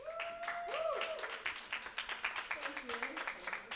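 An audience at a holiday dinner claps for the arriving act, a scattered round of applause under music tones and some voices, with individual claps getting sharper and more spaced as it goes on.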